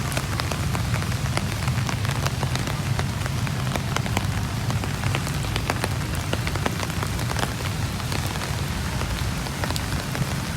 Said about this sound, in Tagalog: Lumakas ng ulan pero hindi nakakapigil sa atin.